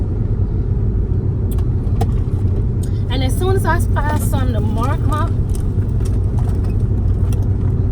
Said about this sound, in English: I'm literally on my way somewhere else, and I know that I didn't do my videos. So I'm doing a video in the car.